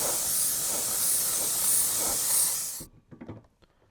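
Gray spray paint hisses from an aerosol can onto a Kyosho Dune Master RC body in a steady, fairly close burst that cuts off abruptly, followed by a few light clicks and taps.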